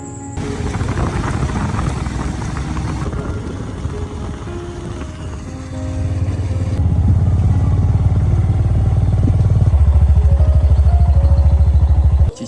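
A motorcycle ridden through quiet forest on a camping trip, its engine droning loud and close throughout, rising in pitch and strength midway as the rider accelerates, with rattling and wind noise over the motor.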